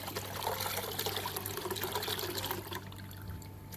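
Liquid fertilizer water being strained and poured into a container, a steady close trickle and splash that thins out toward the end.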